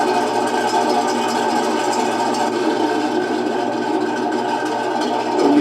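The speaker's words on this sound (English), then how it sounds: "it's making the electric turret rotation sound" Continuous electric whir of a model Tiger 1 tank's turret rotating, a steady mechanical drone that holds level throughout, close by and without speech.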